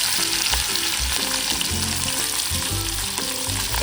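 Stuffed pomfret fish frying in a pan of oil, a loud, steady sizzle running throughout with soft low bumps from the pan, no voices.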